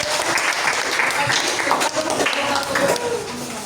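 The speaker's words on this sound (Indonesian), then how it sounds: "Tepuk tangan untuk kelompok 1." Applause from a training audience for the first group at a coding workshop, a steady, moderately loud wash of clapping with some voices mixed in throughout.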